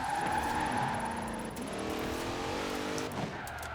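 A Dodge Durango Hellcat engine in Forza Horizon 4 roaring steadily at high revs, with tire squeal and a shifting pitch as the car drives hard, loud and close.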